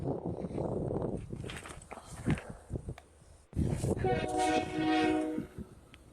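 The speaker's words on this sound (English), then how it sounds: "sounds like the train's coming" A train rumbles nearby, its horn sounding steady tones in the second half, with footsteps and movement mixed in.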